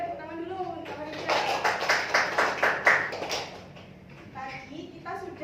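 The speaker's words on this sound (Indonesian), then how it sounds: "Tepuk tangan dulu Kak Farida." A classroom claps for a student after she answers a maths question, a short burst of many hands clapping in quick rhythm between stretches of a teacher's voice before and after.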